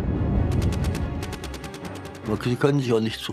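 Machine gun and cannon fire in a World War 1 battle scene, rapid rattling bursts and deep booms under a dense background, with a voice speaking over the latter part.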